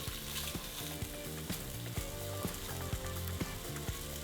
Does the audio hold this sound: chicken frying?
yes